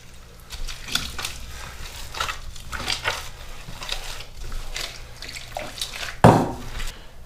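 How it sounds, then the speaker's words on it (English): Water is poured and worked into stiff ground beef pepperoni stick meat to loosen it before stuffing, giving soft wet splashing and mixing noises with a brief louder slosh near the end. "you're just going to loosen that up with a little bit of water"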